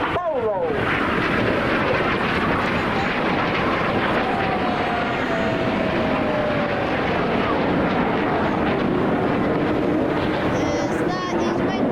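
Red Arrows display jets dive low past the crowd at the Blackpool Airshow, a loud, sustained engine roar swelling as they pass, with a commentator talking over the noise.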